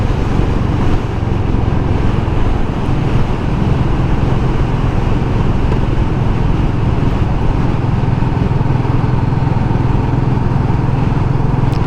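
A Royal Enfield Meteor motorcycle being ridden, its relaxed, unhurried engine giving a loud, steady drone mixed with rushing wind that holds unbroken for the whole stretch.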